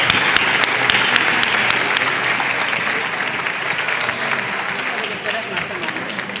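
Loud sustained applause for a choir after a song, many hands clapping densely and evenly, with faint crowd murmur beneath.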